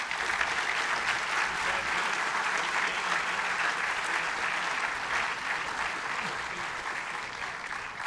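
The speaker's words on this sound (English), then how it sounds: "Please give him a round of applause." A school assembly audience gives sustained, loud, even applause for a student award recipient, the dense clapping holding steady from start to finish.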